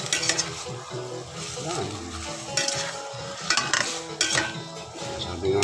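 Tabayag being sautéed in a pan, with a steady sizzle under repeated metal utensil scrapes and clinks as it is stirred, close and fairly loud; a voice speaks briefly.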